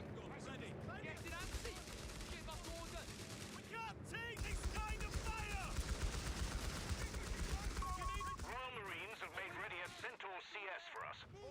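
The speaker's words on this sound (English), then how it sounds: "They've opened fire on us." Company of Heroes battle gunfire: sustained machine-gun bursts and rifle fire with distant artillery, beneath frequent shouted soldier voice lines and radio chatter.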